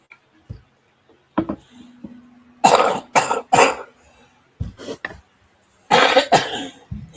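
Several sharp coughs come in separate bursts, some single and some in quick pairs, loud and close, with brief quiet gaps between them and a little throat noise.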